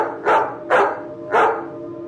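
A dog barks three times in an even, spaced rhythm, loud and close, each bark short and sharp with no talk around it.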